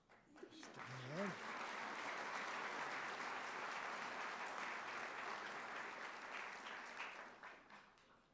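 A large audience at a fall college commencement breaks into loud, sustained applause that swells quickly and holds steady for several seconds before easing, with a brief voice at the very start.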